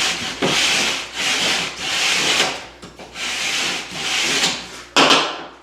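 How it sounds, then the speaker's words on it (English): A rasp scrapes across a wooden piece in long, loud, rhythmic strokes, about six back-and-forth passes heard close up with brief gaps between them and no speech. "so we're going to rasp this other ugly side."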